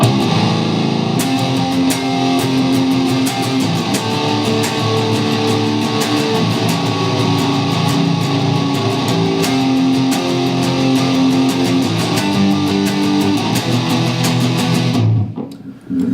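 Distorted electric guitar plays a driving chorus riff with steady rhythmic strums, loud and continuous, cutting off abruptly near the end.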